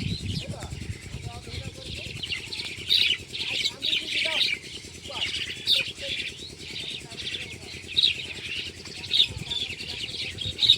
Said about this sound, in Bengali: এই যে শালিক পাখি আছে এখানে প্রচুর পাখি